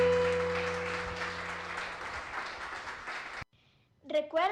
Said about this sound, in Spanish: denle un último aplauso al Señor